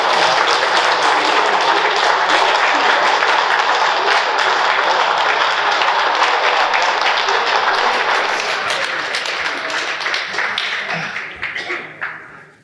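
An audience at a conversation event with Graham Gouldman of 10cc breaks into loud, dense applause that holds steady for several seconds before thinning out and dying away.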